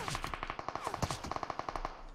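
Rapid automatic gunfire in PUBG Mobile, a quick steady rattle of shots at moderate distance, continuous over a couple of seconds with a brief stutter midway.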